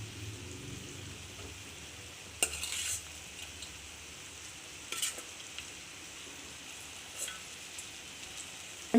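Brinjal pieces sizzle softly in hot oil in a pan, with a few sharp scrapes and clinks of a spoon stirring at intervals over the steady frying hiss.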